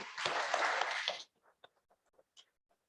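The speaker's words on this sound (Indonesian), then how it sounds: "kita berikan tepuk tangan sekali lagi" A church congregation at Danny and Pinka's holy matrimony gives a short burst of hearty applause lasting about a second, which stops abruptly and leaves faint scattered claps and small room noises.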